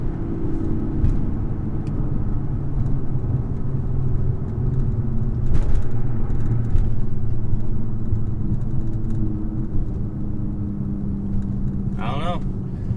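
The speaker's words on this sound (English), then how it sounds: "that was a full third gear pull" A 2013-era Audi B8.5 S4 with a misfire fault pulling hard through third gear, a loud, steady engine drone and rumble from inside the car, with a brief sharp whine near the end.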